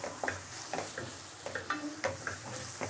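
Onions sauté in a pan for rajma masala, a soft, steady sizzle broken by faint rhythmic scrapes of stirring, heard quietly and close.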